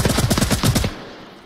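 Rapid automatic gunfire in the Vietnam map of the VR shooter Onward, a loud fast burst of roughly a dozen close shots that stops abruptly and leaves near silence.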